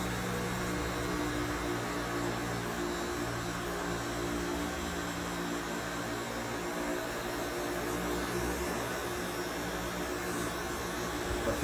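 Electric hair clipper buzzing steadily while cutting a clean fade with a razor finish, held lightly against a client's head in a barbershop; a continuous, even mechanical hum runs throughout with no talk.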